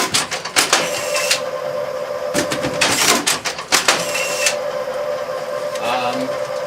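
An automatic strapping machine with arch supports cycles at reduced speed, producing a steady mechanical hum broken by repeated bursts of whirring and sharp clacks from the strapping action.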